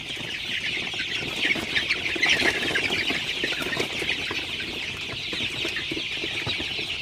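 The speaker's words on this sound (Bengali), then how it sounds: "আপনারা দেখতে পাচ্ছেন আমার সোনালী সুপার হাইব্রিড মুরগির বাচ্চাগুলো" Many Sonali super hybrid chicks cluck and peep continuously in a dense flock, a steady close chorus with no talking.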